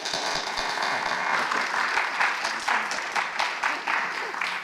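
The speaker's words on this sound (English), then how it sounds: "So Judith, you can have applause" An audience at a candidates' forum applauds a board member's welcome, with many hands clapping in a fairly steady wash and individual claps standing out, moderately loud with no voices over it.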